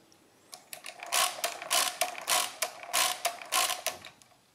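Original-Odhner 24 mechanical calculator with its crank turned repeatedly, giving a series of close, crisp clattering mechanical whirs in a regular rhythm, about seven turns in a row.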